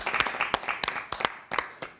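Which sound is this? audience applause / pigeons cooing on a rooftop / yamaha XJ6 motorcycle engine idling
audience applause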